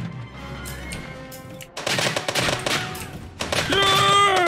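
Gunfire and a grenade explosion in the Minecraft WW2 video game, rapid bursts of shots and bangs, loud and dense, building into sustained firing near the end.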